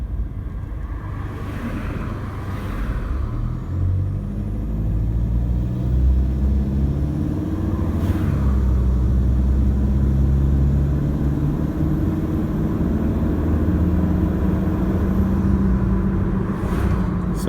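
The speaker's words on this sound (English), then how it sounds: "So now all I can hear is the noisy tyres" A car drives along a road on a set of old STZ tyres, a steady low rumble and tyre roar heard from inside the cabin, with passing traffic swelling briefly.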